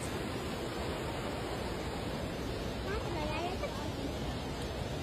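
Steady broadband rush of a waterfall at a litter-strewn tourist spot, a constant wash of falling water with no break, fairly soft and even throughout.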